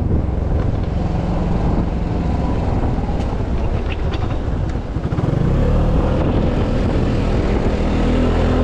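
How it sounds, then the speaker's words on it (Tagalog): Steady, loud wind roaring across the microphone outdoors on a beach, a continuous broadband rush with low buffeting and no pauses. "Malakas yung hangin."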